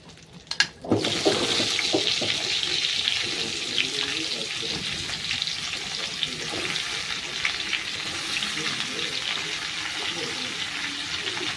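Taro stolons drop into hot oil with nigella seeds, a sharp clatter followed by a loud, sustained sizzle and crackle close by, with stirring and bubbling textures continuing under the steady frying.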